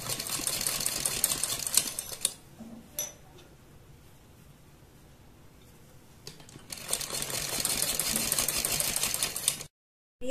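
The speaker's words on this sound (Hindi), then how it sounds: "इस तरह से हम चारों तरफ सिलाई लगा देंगे इसकी।" A sewing machine stitches around a garment's neckline, with the fabric folded to the inside. Two steady bursts of rapid mechanical whirring are separated by a quiet pause, and the stitching resumes briefly at the end.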